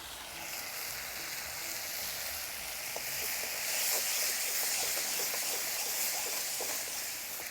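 Base gravy with a pinch of cumin and garam masala cooks down in a hot pan, a loud, steady sizzle and hiss that continues throughout with no talking.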